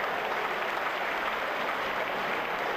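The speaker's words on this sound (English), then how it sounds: "Some rapturous applause for something there." Football crowd at a Bury versus Shrewsbury Town match applauds after a shot strikes the crossbar, a distant, even roar of clapping that holds steady throughout with no talk over it.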